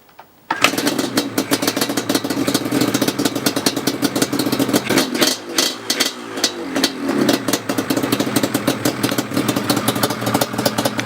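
A Yamaha Banshee two-stroke ATV starts in the cold after a moment of quiet, then runs with a loud, choppy, crackling idle and irregular revs that rise and dip.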